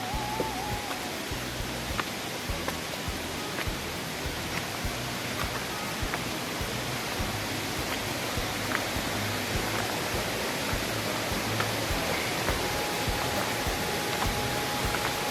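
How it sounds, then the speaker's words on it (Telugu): Penchalakona waterfall roars as a dense, unbroken wash of falling water, loud and steady throughout with no voices. "వాటర్ సౌండ్ భయంకరంగా ఉంది."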